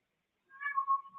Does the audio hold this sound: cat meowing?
yes